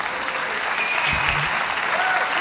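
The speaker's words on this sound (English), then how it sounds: "Okay, stop clapping, because there's no time." An audience claps steadily at a talk, a dense even patter filling the whole stretch at moderate loudness with no voice over it.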